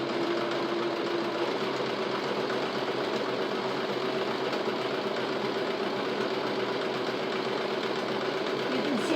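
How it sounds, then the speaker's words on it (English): A sewing machine stitching cushion or mattress cover fabric runs steadily for the whole stretch, a dense, continuous mechanical whir with a fine rapid rhythm of stitching, close and fairly loud. "as the sewing machine works its way backward and forward and then to the side"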